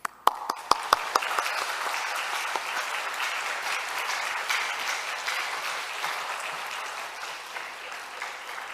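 A few sharp, separate claps start things off, then a large church congregation breaks into steady, sustained applause that carries on evenly.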